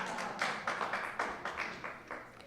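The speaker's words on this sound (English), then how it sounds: "Got a little applause there." A small audience claps briefly at a talk, with a handful of distinct, spaced hand claps ringing out rather than a full ovation, fairly quiet and near.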